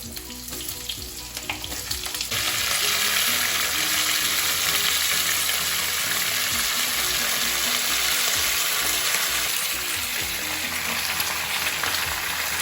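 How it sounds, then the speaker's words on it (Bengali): Mixed vegetables, jackfruit seeds among them, go into hot oil for a vegetarian curry. Quiet stirring gives way to a loud, steady sizzle that rises suddenly and stays strong and close to the end. "আমি সব রকম সবজি এবার আস্তে আস্তে মিশিয়ে দেবো"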